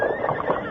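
A horse whinnies in a short, bright, wavering neigh, close and fairly loud, with faint hoof clatter beneath it.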